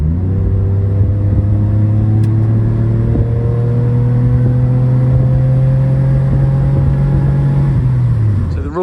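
Chrysler Sebring V6 engine while driving at night, a loud, steady, close droning hum with a slight rise in pitch before it eases off near the end.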